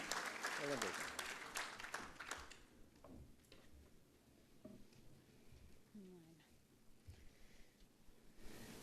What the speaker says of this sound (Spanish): Señoras y señores, recibamos con fuerte aplauso